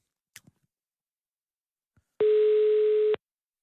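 A steady telephone tone sounds once for about a second while a call is being placed, loud and clean against near silence, with only a couple of faint clicks before it.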